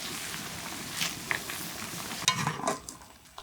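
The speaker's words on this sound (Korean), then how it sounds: "끓는 물에 넣고 잘 저어주면서 3분 정도 삶아내고" Egg noodles are stirred in a pot of boiling water, giving faint, steady bubbling broken by a few light scraping clicks and one sharper stir, close up and without speech.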